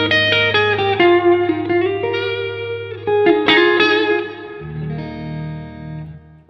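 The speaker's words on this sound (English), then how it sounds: "You got a deluxe reverb kind of clean setting on the Helix." Electric guitar on a Warmoth Redshifter, played through a Helix with a Deluxe Reverb style clean tone on the neck pickup at full volume. Ringing chords and single notes sustain with reverb, loud and close, with no talking.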